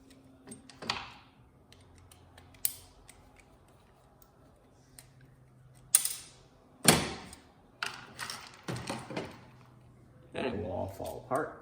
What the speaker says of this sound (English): There are 2 screws on the back that I must remove.